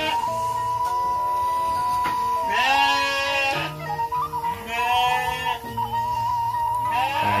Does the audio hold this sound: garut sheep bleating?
yes